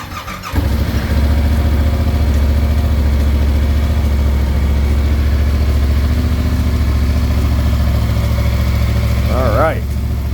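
A 2023 Yamaha YZF-R7 with its factory exhaust starts up and settles into a steady, fairly quiet idle close by, a low even thrum for several seconds before a voice begins near the end.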